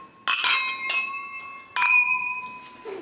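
Glasses clinking during a wedding toast, two or three bright ringing clinks with lingering tones, close and clear, with no talk over them.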